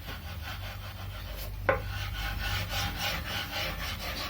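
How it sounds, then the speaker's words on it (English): Thick masking tape is burnished down onto a guitar body during a custom guitar rebuild, heard as a close, steady rubbing and scraping with rhythmic strokes and one sharp tap partway through. "put down the masking tape, nice thick masking tape. And then I'm just going to burnish it down."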